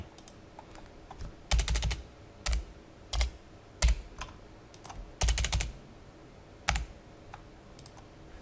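Bursts of keystrokes on a computer keyboard while working on a database report form, clustered clicks separated by short pauses, close and fairly quiet with no speech.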